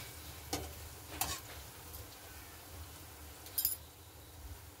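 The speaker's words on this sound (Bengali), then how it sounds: "দিয়ে এইভাবে আমি ভেজে নিচ্ছি।" Palm fritters (taler bora) frying in oil over low heat, a quiet, soft sizzle with a few sharp crackles and pops scattered through, close by with no talk.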